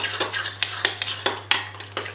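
A spoon stirs cornstarch into liquid in a bowl, making quick metallic clinks and scrapes against the sides in an uneven rhythm, close and clear under a steady low hum.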